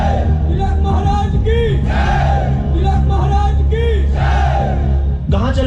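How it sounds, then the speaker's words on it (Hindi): A large crowd arrives during a stage play, a loud continuous roar of many voices shouting and cheering together, with rising calls and yells layered over a steady murmur throughout. "अरे लोगों की ये कैसे भीड़ चली आ रही है?"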